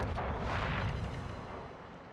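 Naval gunfire in World of Warships booms through a dense, rumbling roar that swells early and slowly fades over about two seconds, a heavy layered blast of ship guns firing with no voices.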